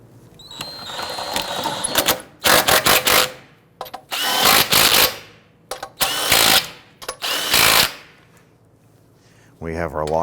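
A power tool snugs down bolts on a 2008-2013 Infiniti G37 during headlight mounting bracket work, firing in several short, loud, close rattling bursts separated by brief pauses.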